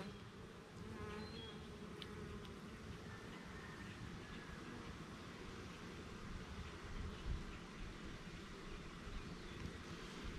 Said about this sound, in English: Got a mad bee on me over here.